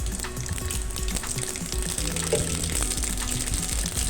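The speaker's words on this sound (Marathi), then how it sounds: "मी तेल तापले मोहरी टाकली" Mustard seeds sizzle in hot oil for masala bhat, a steady close crackling hiss with scattered tiny pops throughout, no voices.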